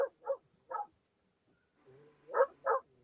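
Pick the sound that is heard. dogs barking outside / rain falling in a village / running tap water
dogs barking outside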